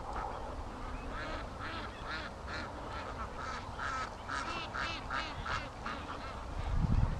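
Muscovy ducks in a pen honk and call repeatedly in a busy, overlapping chorus, moderately close, with scuffling and rustling underneath and a louder bump near the end.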